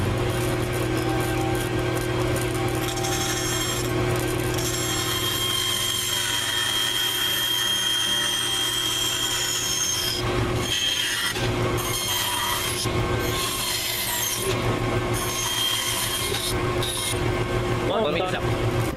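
Wooden bow tie pieces being cut by hand for a waterfall table build, a steady rasping saw scrape with rhythmic strokes becoming more pronounced later, over a constant background hum.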